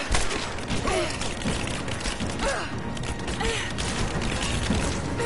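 An enemy firing a nasty gun in Rise of the Tomb Raider: a dense, continuous clatter of rapid gunfire and mechanical rattling, loud and close throughout the combat.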